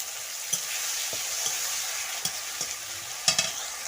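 Spice paste sautés in oil with a soft steady sizzle while a utensil scrapes and taps the pan in irregular strokes, close and without voices.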